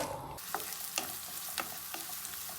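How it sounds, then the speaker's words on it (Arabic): Onion frying in olive oil, a steady hiss of sizzling with light periodic scrapes of stirring, close and moderately quiet, no voices. "زيت زيتون واضيف البصل."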